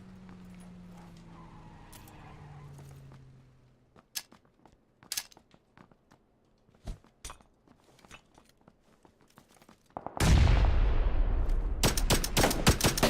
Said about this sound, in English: Now I'm getting shot at by a second guy here.